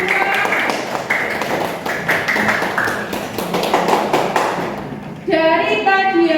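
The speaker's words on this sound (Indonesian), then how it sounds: "beri tepuk tangan untuk kelompok 2" Applause for a student group in a school classroom: a short burst of scattered hand clapping, close and uneven, fading out before a voice begins speaking.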